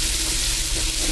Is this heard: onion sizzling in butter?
yes